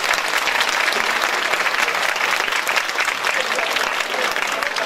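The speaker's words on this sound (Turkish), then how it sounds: "Bir alkış istiyorum ayrıca" Sustained applause from an audience at a concert, with dense, even clapping for about five seconds and faint crowd murmur underneath.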